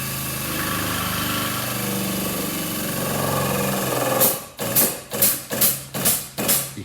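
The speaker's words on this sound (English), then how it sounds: "You can hear the pump slowing down a little bit now." A hydraulic pump on a jig frame machine drones steadily while pulling a crashed Audi A1 chassis, then gives way to a series of six or seven loud rhythmic clanking pulses near the end.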